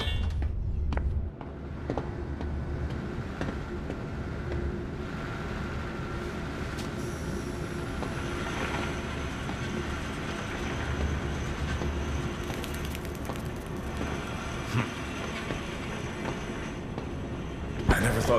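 A train running through the zoo in the game Zoochosis, a steady rumbling and clattering ride with occasional metallic clunks, under a voice speaking throughout.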